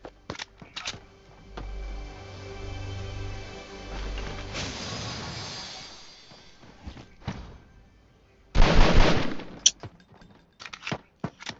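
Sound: gunfire in Fortnite Mobile video game

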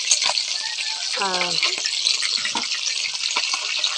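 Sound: frying snakeskin gourami fish

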